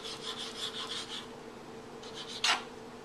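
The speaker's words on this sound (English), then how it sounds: "get a cutting board and start cutting these with the strips" A knife slices tortillas into strips on a cutting board, giving a run of quick scraping rasps, a pause, a few more strokes and a firmer final cut, close and quiet.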